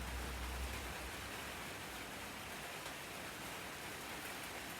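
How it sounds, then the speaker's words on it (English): Rain falls steadily outside, a continuous, even hiss of drops on surfaces that holds at the same level throughout, with no voices. "Can hear it rain now, I think."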